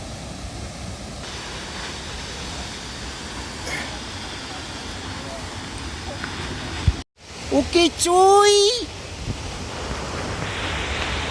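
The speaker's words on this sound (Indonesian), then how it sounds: "Itu air terjun Penimbungan." Rushing water of the Penimbungan waterfall along the Rinjani trail at Torean, a constant broad roar that fills the background, briefly interrupted midway, with a person speaking over it.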